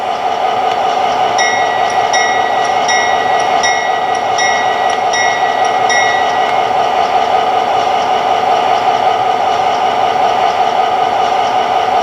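A model diesel locomotive (MTH Premier GP-30) bell rings in a quick, steady series of clangs for a few seconds over a continuous loud engine drone, then the rumble carries on alone.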